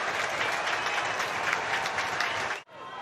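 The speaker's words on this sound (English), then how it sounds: "Here comes the roar from the home crowd to welcome Edinburgh back for the new season." A home crowd at an Edinburgh rugby match roars and applauds in a dense, loud wash of cheering and clapping that cuts off abruptly near the end, with a commentator speaking over it.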